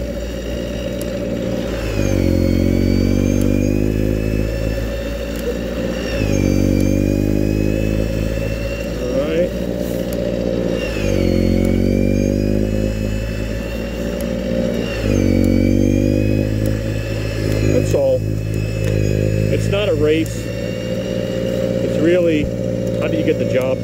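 A Troy-Bilt two-stage gas snow blower runs steadily nearby, its engine droning loudly with periodic rises in pitch while a person talks over it.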